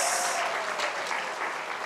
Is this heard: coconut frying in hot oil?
no